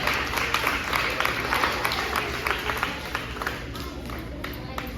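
Audience applause at an end of year ceremony, a steady dense clapping of a crowd with scattered sharper claps, carrying on evenly for several seconds and slowly easing off.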